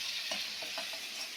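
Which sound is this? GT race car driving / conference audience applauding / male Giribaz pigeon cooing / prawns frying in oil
prawns frying in oil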